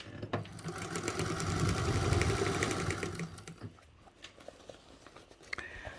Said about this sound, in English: And we're going to start sewing